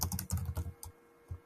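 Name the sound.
typing on a computer keyboard in Figma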